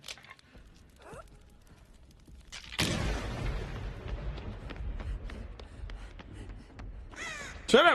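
A crow cawing in the horror video game Dead by Daylight, harsh calls heard near the start and again loudly at the end, around a sudden booming impact and rumbling ambient game noise.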